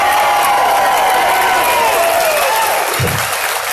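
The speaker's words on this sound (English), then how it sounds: "Clap your hands if you love God Almighty and our Lord and Savior, Jesus Christ." A crowd at a rally in Tallahassee, Florida claps and cheers loudly and continuously, a dense wash of applause and shouts with voices mixed in.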